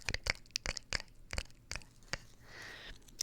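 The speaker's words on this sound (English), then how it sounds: "I feel like the page turning sounds could be some fun ASMR stuff" Paper pages flip and crinkle in a few quick, close, crisp rustles, with a softer sweep near the end; no talking.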